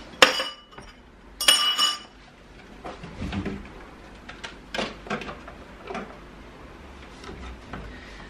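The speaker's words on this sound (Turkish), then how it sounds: "Bulaşıkları makineye koymam lazım." Dishes and glassware clink in bursts while being loaded into a dishwasher at home, a few sharp close clatters followed by quieter scattered knocks and taps.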